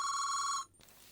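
A telephone bell rings loud and close in a short burst, then cuts off abruptly into a quiet room.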